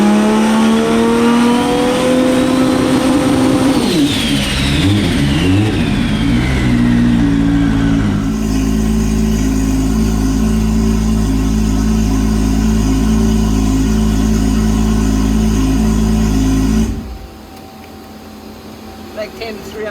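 A Toyota Supra with a Precision Promod XPR 88/108 turbo revs hard on a dyno: a loud, rising engine scream, a sudden drop and gear change, then a long, steady high-load drone that stops abruptly near the end.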